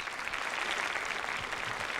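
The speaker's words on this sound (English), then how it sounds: "A round of applause, please." A crowd at a high school academic competition awards ceremony applauds steadily and evenly, a dense wash of many hands clapping at moderate distance without pause.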